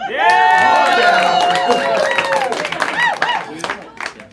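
Audience applause and cheering at a stand-up comedy show, a loud crowd swell that holds steady and then thins into scattered claps, with a voice carrying over the top.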